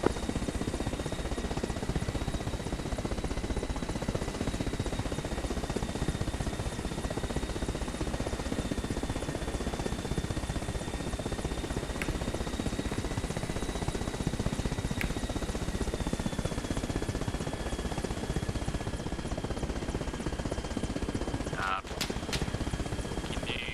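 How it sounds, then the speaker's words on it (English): A helicopter in Arma Reforger makes a steady, droning rotor and engine hum with a faint whine running underneath, and it stays constant for the whole stretch. Muffled radio chatter and talk sit beneath it. "Be advised we are conducting flyover."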